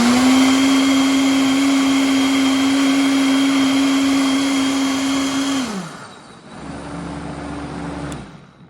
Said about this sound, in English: that is why I take the blender speed higher